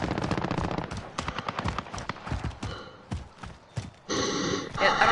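A micro gun fires in Call of Duty Modern Warfare in rapid, uneven bursts of sharp automatic shots, loud and close, with brief pauses between volleys and a heavier burst near the end.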